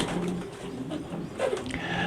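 Pigeons coo close by in soft, throaty murmurs that rise and fall over a dense, continuous background of other bird sounds.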